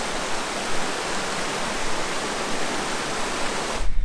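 River water near the Neda waterfalls in Greece rushes in a dense, steady roar of broadband noise, close and constant, cutting off abruptly at the end.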